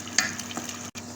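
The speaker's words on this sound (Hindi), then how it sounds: "इसको थोड़ा सा और भूनूंगी" Masala sizzling and frying in a pan while being stirred, for an egg and potato curry; steady close crackle with a few louder scrapes of the spoon and a brief drop to silence near the end.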